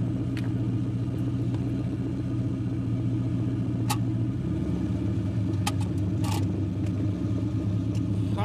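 An LS-swapped Ford Ranger truck drives along with a steady, low engine rumble heard from inside. The tone shifts lower about halfway through, with a few faint clicks and knocks on top.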